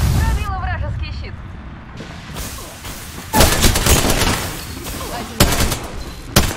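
Gunfire in a shooter video game, with sharp bursts of shots cracking out loud and close, scattered over roughly six seconds, several heavier volleys standing out against steady in-game background noise.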